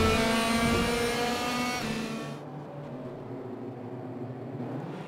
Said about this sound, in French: Et on démarre avec la M4 de Farfus ici à Spa